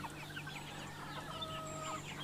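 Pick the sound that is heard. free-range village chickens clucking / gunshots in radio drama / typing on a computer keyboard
free-range village chickens clucking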